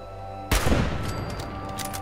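A turret opens fire in the video game Fallout 4, one sudden loud blast after half a second of quiet, trailing into a rumbling echoing decay.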